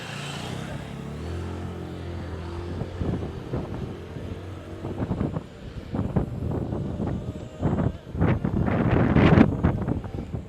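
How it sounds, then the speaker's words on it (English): Gusty wind buffets the microphone outdoors in Istanbul, rumbling in uneven bursts that grow stronger toward the end. "It's very windy out here"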